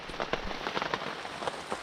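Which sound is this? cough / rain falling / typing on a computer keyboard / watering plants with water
rain falling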